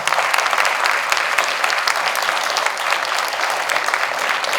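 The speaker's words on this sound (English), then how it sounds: "let's give them a round of applause" Sustained audience applause for school board members at a San Angelo ISD service academy night, a dense, steady wash of many hands clapping at close range with no talk over it.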